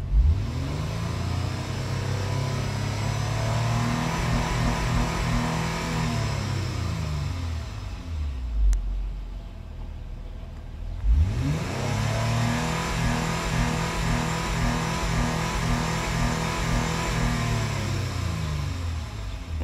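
Engine of an Acura TL revs up and holds, drops back, then revs up again in two long sweeps of the gas, loud and steady with no talking.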